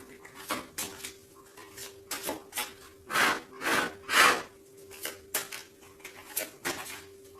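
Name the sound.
shuffling tarot cards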